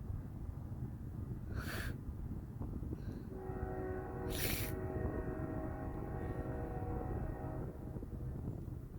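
A train rumbles steadily past, with a sustained multi-tone horn sounding partway through and a couple of brief hissing bursts.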